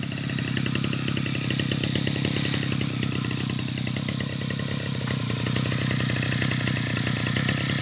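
Two-stroke engine of a Mitsubishi TU43 grass cutter, recently fitted with a new block and piston, runs steadily at a smooth idle with a constant buzzing drone and light mechanical clatter, close and loud throughout.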